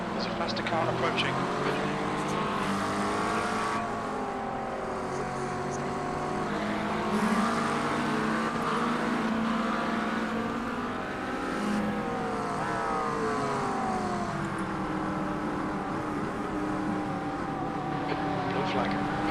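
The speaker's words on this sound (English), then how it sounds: "there's a faster car approaching" Race car engine at the Spa 6-hour endurance race, a steady loud in-car drone with shifting pitch as the faster car closes in, under constant radio talk from the driver and spotter.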